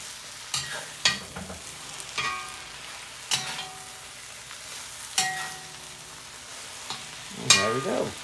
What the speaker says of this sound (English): a leftover stir fry.